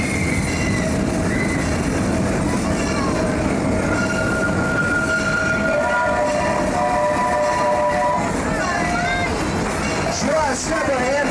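An amusement park train runs steadily along its rails, rumbling and clattering continuously, with high wheel squeals rising and falling over crowd babble and speech heard throughout.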